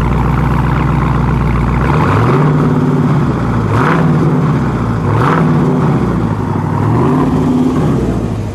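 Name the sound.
2020 Plymouth Hemi Cuda engine revving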